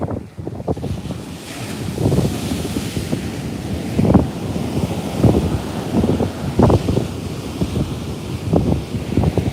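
Wind buffets the microphone on a New York City beach at high tide while ocean waves roll and break in repeated surges of rushing surf, steady and fairly loud throughout.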